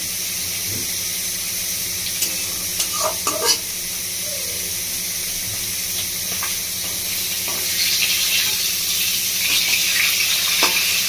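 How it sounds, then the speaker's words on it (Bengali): Rohu fish head frying in oil in a pan, a continuous close sizzle with scattered crackles and pops, a few clinks of stirring, and the hiss growing louder toward the end. "মিটমিটে করে মাছের মাথাটা ভালো করে ভেজে নেবে।"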